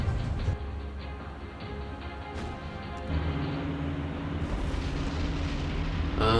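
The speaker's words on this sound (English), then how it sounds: "that was a nice magazine explosion, or in this case it would have been probably a cargo explosion" Ship magazine or cargo explosion in the naval combat game War on the Sea, a loud sustained rumbling roar of fire and blast debris that swells partway through, with no talking.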